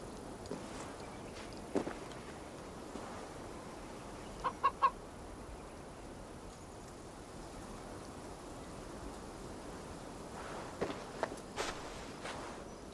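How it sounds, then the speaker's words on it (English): A chicken clucks in short, soft bursts in the Assassin's Creed Valhalla video game, set during the Ostara festival, over a steady ambient bed with occasional light footsteps. "I see only a chicken."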